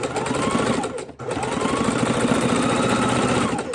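A sewing machine stitches around a felt Easter egg, its loud, fast needle chatter running continuously up close, broken only by one brief pause.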